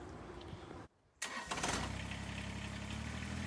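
A Kubota tractor's diesel engine drops out briefly, then roars back and revs hard, holding a loud, steady throb close by while the machine is stuck.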